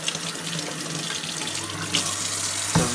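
Home-brewed Baltic porter gushing from a freshly opened bottle, a steady rushing pour like running water lasting throughout, with a faint short knock near the end.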